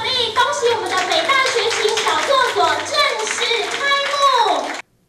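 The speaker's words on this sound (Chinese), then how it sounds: "请掌声鼓励鼓励" An audience at an opening ceremony for a New Taipei sheltered workshop supporting people with disabilities applauds in a sustained, dense burst of clapping that stops abruptly, with voices, including children's, heard through it.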